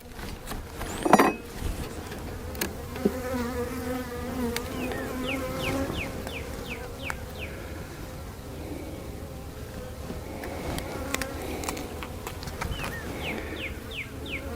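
Honey bees from a large, calm hive fitted with a Demaree box buzz around the open hive in a continuous close hum, with scattered clicks and knocks from handling the boxes.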